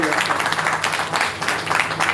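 Audience clapping at a handing-over ceremony for a hurricane recovery project, a steady wash of applause filling the room with voices mixed in underneath.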